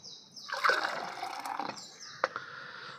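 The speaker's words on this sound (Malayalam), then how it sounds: "അപ്പോൾ നമുക്കിതൊന്ന് കലക്കി ഗ്ലാസ്സിലോട്ട് ഒഴിക്കാം." Blended lime juice is poured into a glass, a steady watery splashing stream lasting a few seconds with a brief clink near the end, close and moderately loud with no talking.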